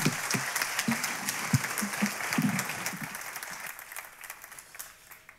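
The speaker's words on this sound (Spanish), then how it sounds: "ya solo falta, yo creo, que dar un aplauso a los compañeros de la mesa" An audience at an education and business forum applauding the panel members, a burst of close clapping that gradually thins and fades out over a few seconds.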